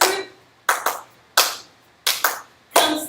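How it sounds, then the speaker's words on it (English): A group claps hands in unison during a dance routine, with sharp bursts that come singly and in pairs, about six claps in three seconds, each ringing briefly in a reverberant room. "begin to clap"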